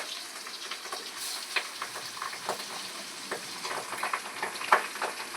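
Small, cheap fish frying in a pan on a home stove: a steady, close sizzle with scattered sharp crackles and pops, with no talking.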